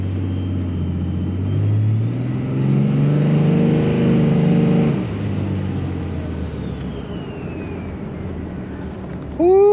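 A Cummins diesel truck engine rumbles low and heavy, revving up into a rising roar that peaks mid-way and then settles back, with a brief sharp sound at the very end; no talking.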